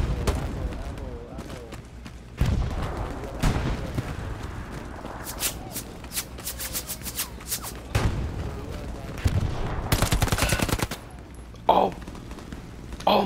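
Bursts of video-game gunfire spray in rapid clustered volleys, some dense and loud, with sharp single shots between them, heard alongside people talking in a game set around a wheat field.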